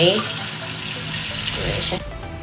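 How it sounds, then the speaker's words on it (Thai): Cold tap water runs into a glass for soaking shrimp, a steady rushing splash that cuts off abruptly near the end, close and fairly loud. "ใส่ลงไปในแก้วน้ำแล้วให้ใช้น้ำเย็นค่ะ"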